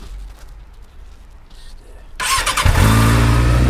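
A Suzuki RF motorcycle that has sat for a month is started on choke: the engine catches abruptly and settles into a loud, steady idle close by.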